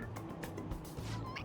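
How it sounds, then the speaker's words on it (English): A toy cat meowing when its head is pressed in the video game Persona 5 Royal, a short electronic meow over game background music and ambience. "It meows when you press on its head."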